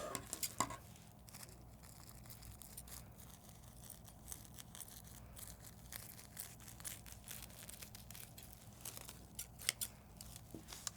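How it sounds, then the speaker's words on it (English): Scissors cut through a sheet of plastic wrap, giving quiet snips and crinkles with a few sharper clicks in a soft, close, low-level texture. "I'm going to cut my plastic wrap in half."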